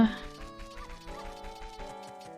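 Cartoonish clucking and yapping barks from chickens and a dog race in Zelda: Majora's Mask bounce over a steady, rhythmic game soundtrack with a low repeating beat, with a voice talking throughout.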